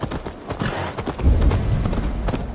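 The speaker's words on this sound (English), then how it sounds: "Can I use my horse?" A horse's hooves clip-clopping in Assassin's Creed Valhalla, a close, steady run of thudding hoofbeats that grows heavier midway, with no talking.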